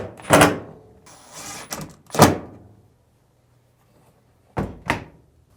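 A dryer door is fitted onto its hinge screw with a series of sharp metallic thunks and clatters, close and loud, followed by a pause and two final knocks.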